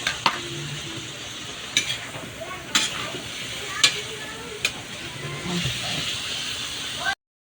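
A spoon clinks and scrapes in a pan as carrots and potatoes are stirred into tilapia for ginataang tilapia, with roughly one knock per second over a soft, steady sizzle up close.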